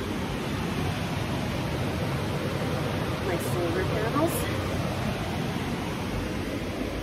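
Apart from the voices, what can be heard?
loud rushing Ashnola River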